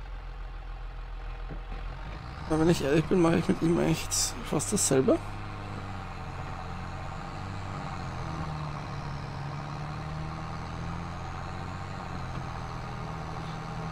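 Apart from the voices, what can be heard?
tractor engine driving in Farming Simulator 22 video game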